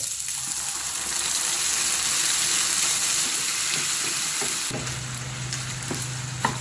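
Fried sardines going into a wild bitter gourd dish cooking in a pan, a loud steady sizzle and crackle that carries on alone throughout.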